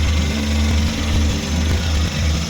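Suzuki DA64W turbo engine idling steadily after a check-up, a loud continuous low rumble with a constant hum and no talk.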